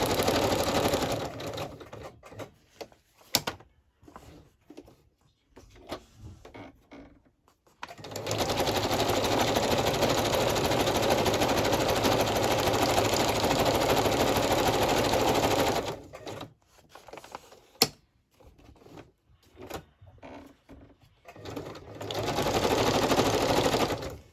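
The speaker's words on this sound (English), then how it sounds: "I'm going to straight stitch here, I think, and then I'll zigzag across the bottom" A sewing machine stitches fabric, straight stitching and zigzagging across it at the ocean-inspired piece, giving close, rapid mechanical whirring in a long steady run between shorter stop-start bursts and quiet handling noises.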